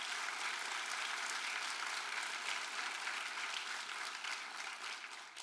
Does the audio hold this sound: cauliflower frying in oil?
no